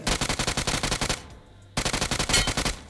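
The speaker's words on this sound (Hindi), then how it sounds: "अभी भी फायरिंग का साउंड आ रहा है" Rapid automatic gunfire in Battlegrounds Mobile India, evenly spaced loud shots in two bursts separated by a short pause of near silence.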